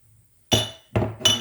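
Glass jars knock together sharply as they are shaken dry, three bright clinks in quick succession, loud and close, with a short ringing tail after each.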